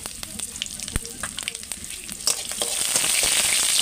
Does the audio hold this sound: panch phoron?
yes